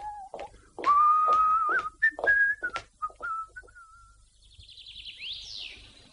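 A person whistles loud, close imitations of parrot calls: sliding, warbling notes and sharp chirps in an irregular burst, followed by quieter, rapid trilling squeaks.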